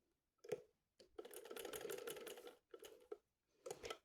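A sewing machine stitches close to the edge of a pocket on a pair of ladies' pants, running in several short, quiet bursts with brief pauses between them.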